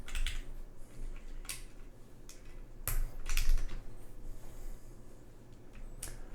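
Typing on a freshly built Bowl Keyboards OC-62 mechanical keyboard, a handful of sharp key clacks and a louder spacebar thock spread unevenly over a few seconds, close and alone.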